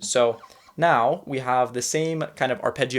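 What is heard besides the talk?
No everyday noises stand out.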